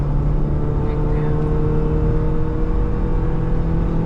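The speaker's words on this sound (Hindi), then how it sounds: "बबलिंग इसलिए आ रही है क्योंकि हबरिंग चाहिए" A Honda City with a worn hub bearing gives off a steady low droning hum with a faint rhythmic wobble while driving, heard continuously from inside the car under constant road noise.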